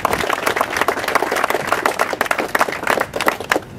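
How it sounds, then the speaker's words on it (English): A crowd applauds an announcement of a $90 million investment in a Shepparton food-processing facility, with brisk, dense clapping from many people throughout, a few individual claps standing out near the end. "Round of applause."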